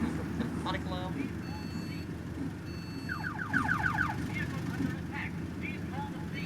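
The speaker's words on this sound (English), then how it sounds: "I've just realised as well that we've got a panic alarm." A panic alarm on an E200 MMC bus in the OMSI 2 bus simulator gives a repeated beeping tone pattern over a steady engine drone, with a person speaking over it.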